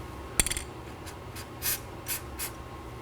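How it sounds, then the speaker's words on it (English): An aerosol can of anti-seize sprays onto inner tie rod threads on a 2018-2024 Chevrolet Equinox, heard as a sharp click followed by several short, faint hissing bursts close by. "Now I'm going to spray some anti-seize on the rest of the inner tie rod threads."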